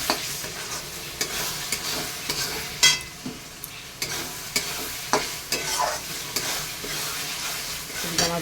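Meat goes into a frying spice paste in a pot, sizzling steadily while a spoon stirs and scrapes in repeated bursts, close and clear with no talking.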